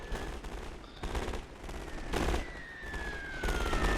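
Rifle volleys in the Napoleon Total War game, set in a Great War mod, crackle in dense, repeated bursts of overlapping shots at moderate volume, with no one talking.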